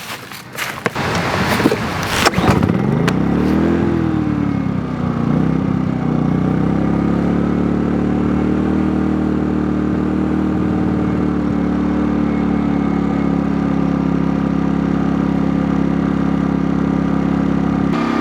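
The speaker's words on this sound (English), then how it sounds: "Now that the generator started and warmed up, I will try to run the AC on the RV." An RV generator cranks with a few sharp starting clatters, catches, then settles into a loud, steady close-up running drone that holds evenly for the rest of the stretch.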